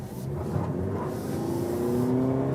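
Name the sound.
Toyota Prius Prime petrol engine starting while accelerating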